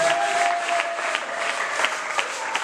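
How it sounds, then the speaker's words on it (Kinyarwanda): Worshippers in a church clap for God, a continuous crowd of hands beating in a busy, even patter at close range, with a low voice murmuring through it. "wakomera Imana amashyi"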